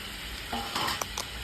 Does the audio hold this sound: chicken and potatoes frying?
yes